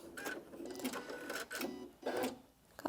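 A Janome Atelier 9 sewing machine ties off a zigzag stitch with a few short bursts of rapid mechanical whirring separated by brief pauses, quiet and close.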